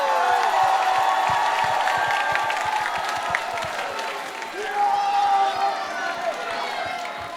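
A large crowd applauds and cheers at the TVK 2020 final show in Tegelen, with steady dense clapping that carries through the whole stretch under a host's amplified voice.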